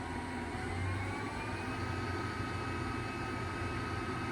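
An oil country lathe with a variable speed inverter drive runs slowly, giving a steady low hum with a faint whine and even tonal lines, close by and unbroken, with no talking.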